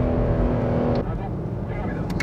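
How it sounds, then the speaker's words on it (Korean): Chevrolet Camaro SS with a 6.2-liter V8 revs hard in second gear on a track, a loud, near engine roar that breaks off abruptly midway as the gear shifts. "지금 2단에서 올라가는 엔진 사운드입니다"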